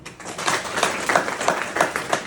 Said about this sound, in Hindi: एक ताली और चाहिए।